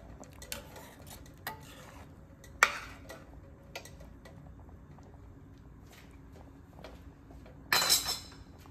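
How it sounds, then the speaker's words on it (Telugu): A spoon gently stirs paneer handi curry in a pan, giving soft scraping taps with a few sharper clinks of utensil against the pan, and a brighter clatter near the end, with no talk. "ఒకసారి మిక్స్ చేస్తాను వెరీ జెంట్లీ"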